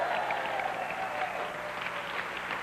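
Studio audience applauding on a 1994 French-language television talk show, a steady, dense clapping that holds at an even level throughout without breaks.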